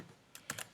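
Quick computer keyboard keystrokes while code is typed: one soft tap, then two sharper clicks close together, near and fairly quiet against a faint background hiss.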